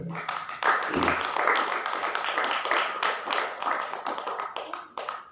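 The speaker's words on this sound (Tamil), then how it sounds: "கைத்தட்டிகளை பார்ப்போம்" Congregation clapping hands together in a church service, a dense continuous patter of many palms at moderate distance lasting several seconds, with no speech over it.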